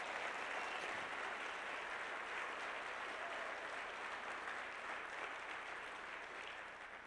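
An audience at a motivational speaking event applauds, a steady wash of clapping from a large crowd heard at a distance, fairly quiet and fading slightly at the end.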